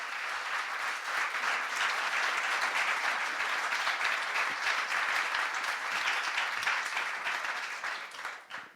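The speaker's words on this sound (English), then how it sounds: "let's have a warm round of applause for our next teller." Steady, dense applause from an arts center audience greeting the next storyteller at a storytelling evening, loud and sustained for about eight seconds before tapering off at the end.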